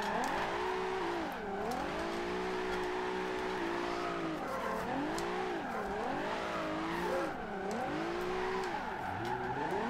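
A Nissan GT-R engine in Forza Horizon 2 revs and wails up and down while tires squeal continuously through sliding drift turns, loud and close.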